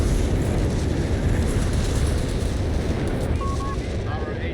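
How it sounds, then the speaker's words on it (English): A Whizbang rocket barrage detonates in Company of Heroes 3, a dense, continuous roar of overlapping explosions that stays loud throughout with no clear gaps between blasts. "Whiz bangs the grenadiers out of existence."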